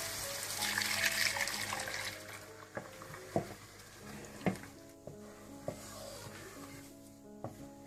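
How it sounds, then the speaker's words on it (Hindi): Blended gram flour and yogurt poured into sizzling masala for pakora kadhi, a wet liquid rush and sizzle that settles into soft bubbling with a few sharp clinks of a spoon against the pot, no voices. "अच्छी तरह मसाला भूनने के बाद आप इसमें बेसन और दही ब्लेंड किया हुआ वो डाल दें।"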